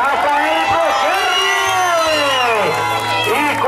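A party crowd cheers, whoops and shouts loudly and without pause, with excited children's voices mixed into the steady roar of applause.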